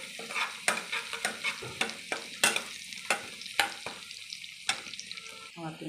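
Chopped onion frying in oil with a little sugar in a pan while being stirred, with steady sizzling and repeated scraping strokes of a spatula, close and moderately loud, no talking.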